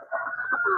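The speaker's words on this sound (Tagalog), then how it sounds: "Dito tayo sa aking mga alagang manok" A pet chicken gives a brief, close cluck and murmur from behind a house, a single short burst of fowl vocalising.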